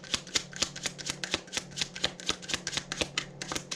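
Tarot cards riffled and shuffled in quick repeated bursts, a steady crisp flutter of card edges slapping together, close and fairly loud with no talking.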